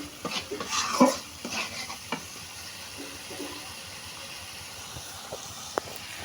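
Spices sautéed in a pan for a chickpea-dal and egg curry, a spatula scraping and stirring busily at first, then a softer steady sizzle with a few isolated clicks.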